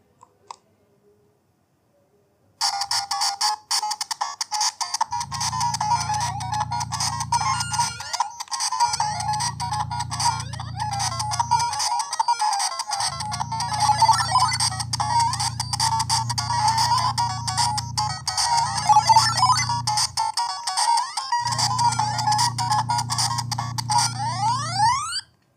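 Once powered on, a handheld video game console gives off a busy, steady stream of electronic beeps and buzzy chiptune tones, with a low hum that cuts in and out in pulses, loud and close, no talking.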